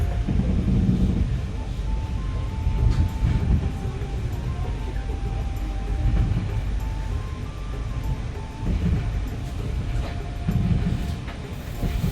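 The Taksaka New Generation train pulls into Gambir station in Jakarta with a low rolling rumble, a short melodic station chime and some talking in the background.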